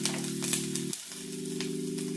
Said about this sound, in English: we're going to add the half onion to the pan